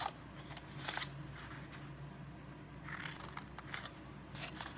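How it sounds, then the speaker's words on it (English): Scissors snipping away the corners of a paper treat box, a few quiet, separate crisp cuts with faint rustling of paper between them. "we're just really cutting away these corners, just like that"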